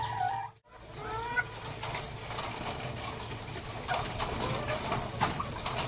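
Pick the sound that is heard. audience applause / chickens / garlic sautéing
chickens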